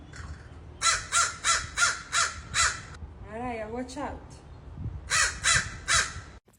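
Crows cawing in two clear bursts of harsh, evenly spaced calls, loud and close, separated by a short warbling call; a person speaks briefly between them.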